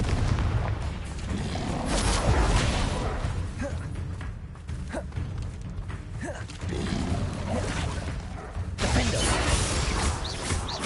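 Fiery Confringo spell blasts during combat in Hogwarts Legacy, dense booming impacts and crackling explosions layered with mechanical creaks and crashes, loud and continuous throughout.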